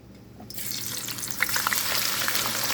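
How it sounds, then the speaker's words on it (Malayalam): Onions dropped into hot oil for a mutton dum biryani start a sudden, loud, steady sizzle that grows busier and crackles, close up, with no voices. "അതിലേക്ക് ഉള്ളിയിട്ട് ഉള്ളി ഒന്ന് ആദ്യം പൊരിച്ചെടുക്കാം"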